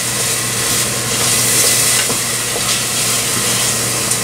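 Carbonara sauce with a thickening agent being stirred and mixed in a pan, a steady close scraping and swishing with a soft sizzle underneath that runs continuously without pause.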